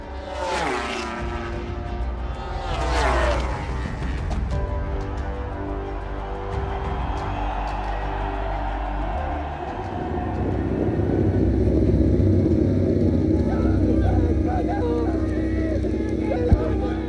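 Onboard engine roar from Pecco Bagnaia's MotoGP bike, caught by a stereo microphone: sharp rising and falling revs on the throttle, then a steadier, louder drone toward the end.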